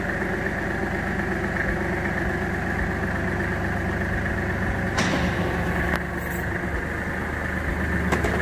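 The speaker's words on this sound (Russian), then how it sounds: "Сейчас покажем, как у нас поднимается кун." Kubota GL23 Japanese mini tractor with front loader, its engine running steadily at close range with a low, even drone, then a shift in load and clunks around five seconds in as the loader lifts.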